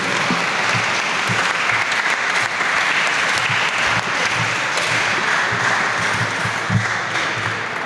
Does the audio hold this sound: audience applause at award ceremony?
yes